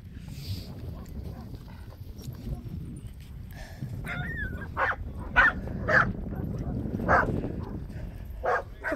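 A dog at the beach gives a string of sharp barks and yips with some whimpering, fairly close, over steady wind and surf noise.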